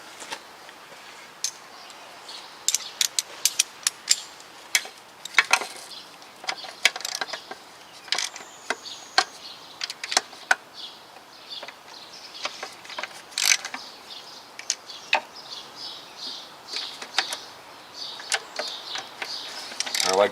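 Ratchet clicking in short bursts while tightening starter motor bolts on a 9th-generation Toyota Corolla, crisp close ticks in scattered clusters with quiet gaps, no talk.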